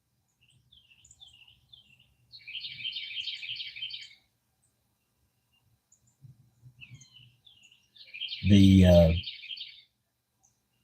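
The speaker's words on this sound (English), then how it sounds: "Yes, it's really birds out in the backyard." Wild birds singing in a backyard at dawn, several short chirping phrases coming and going, fairly faint and distant, with one louder nearby call and a brief word spoken over it.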